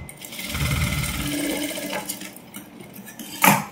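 A sewing machine runs close by, stitching around a silk blouse lining in a steady whirring burst that slows and ends with a short clack near the finish; no one speaks.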